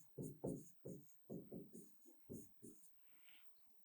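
A teacher writes on a board in a science lesson, making a steady run of about eight short, distinct scratching strokes, close and fairly quiet, with no speech over them.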